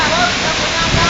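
Dawara Falls sends out a steady, dense rush of falling water, loud and close, filling the whole brief moment without a break.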